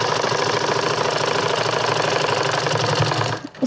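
A sewing machine runs at a fast, steady stitching rhythm along a women's trouser seam, close and continuous, before stopping abruptly near the end.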